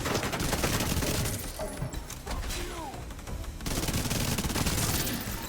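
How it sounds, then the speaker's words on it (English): Rapid gunfire in The Division 2: a dense burst of automatic shots and impacts, briefly easing off, then resuming in a loud sustained barrage, mixed with game effects and faint voice. "Getting shot back."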